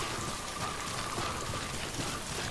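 Steady rain pours down in the open-world video game Death Stranding, a dense even hiss of falling drops with no talk and no letup across the short stretch.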